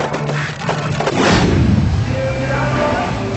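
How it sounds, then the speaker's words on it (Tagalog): Fireworks burst over a giant Christmas tree lighting ceremony, a dense run of booms and crackles that swells into a loud rumbling peak midway, with faint voices mixed underneath. "Sinabayan pa ng fireworks display ang tree lighting"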